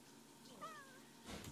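A single meow from an older cat in the game The Sims 3, clear and fairly close over quiet background hum, followed by a short burst of other game noise.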